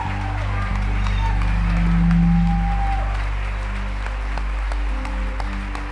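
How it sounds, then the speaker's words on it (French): An audience at a French-language sermon applauds. The clapping forms a steady, dense wash that comes through under sustained low tones and faint voices. "Donnez-lui un applaudissement."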